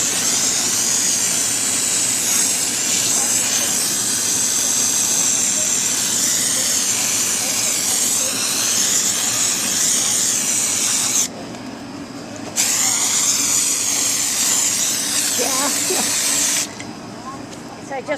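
Continuous loud hiss of orange marking paint spraying from an aerosol can outdoors, running steadily with two brief pauses.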